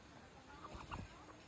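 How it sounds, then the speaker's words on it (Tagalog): A few soft, distant clucks from chickens near a rural provincial house, very faint and brief against a quiet background. "May daghang mga manok diri guys."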